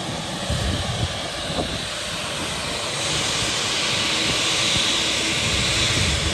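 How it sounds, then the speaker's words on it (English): An Embraer 145 regional jet at Belfast City Airport roars with a broad, steady jet-engine rush that swells louder partway through, heard from nearby outdoors without talk. "Is that an Embraer 145 maybe?"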